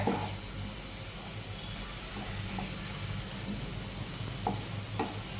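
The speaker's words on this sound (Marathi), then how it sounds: "असं आता एकदम मस्त सगळा मसाला छानपैकी तेल सुटोस्तर भाजलेला आहे" Masala with coriander fries in oil for a paneer dish, a low steady sizzle with a few light scrapes of stirring scattered through.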